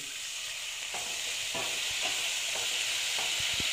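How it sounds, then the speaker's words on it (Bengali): Water poured into frying fish masala for koi macher jhal gives a low steady sizzle, with several scraping stirs and light utensil taps against the pan, no voices. "আমি অল্প করে জল দিয়ে দিচ্ছি।"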